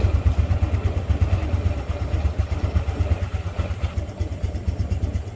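A motorcycle engine idles close by with a steady, throbbing pulse and a light mechanical clatter, running continuously with no talk over it.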